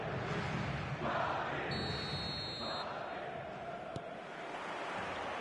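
A football stadium crowd roars on match day in a soccer video game, a broad, steady wash of cheering with a brief electronic tone partway through.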